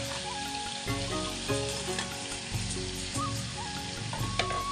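Pre-fried cauliflower and potato pieces go into a hot oiled pan, setting off a dense, even sizzle with small crackles throughout, close and unaccompanied by speech.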